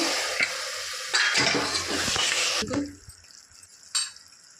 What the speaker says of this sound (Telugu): ఈ వేడి నీళ్ళు దీంట్లోనే పోసుకోవాలి